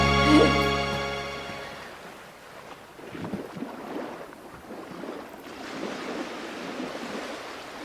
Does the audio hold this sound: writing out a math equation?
no